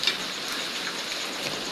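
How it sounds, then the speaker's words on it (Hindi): Heavy rain falling outside a house, a brief, steady wash of hissing drops at moderate loudness, with no voices. "इतनी ज़्यादा बारिश हो रही है कि बारिश के रुकने के नाम नहीं ले रही"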